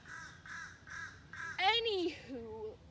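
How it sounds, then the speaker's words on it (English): Crows cawing in a quiet street, four evenly spaced harsh caws nearby, followed by a person speaking. "Look at the birds."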